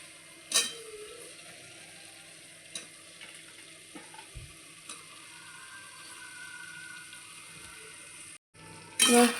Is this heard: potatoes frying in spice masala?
yes